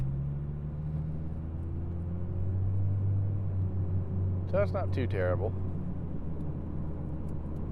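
A car on a cold, snowy early morning drive hums with a low, steady engine and road rumble from inside the cabin, while someone speaks briefly over it.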